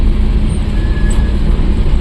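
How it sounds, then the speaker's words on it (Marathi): Road traffic at Parshuram Ghat, a loud low rumble of passing vehicles and engines, continuous and close with a brief faint whine above it. "परशुराम घाटात ट्रॅफिक बघा"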